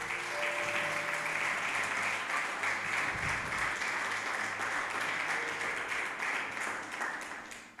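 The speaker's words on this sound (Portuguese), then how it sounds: "Você pode dar uma salva de palmas para Jesus?" A church congregation at a Portuguese-language service claps together in sustained, even applause that fades slightly at the end.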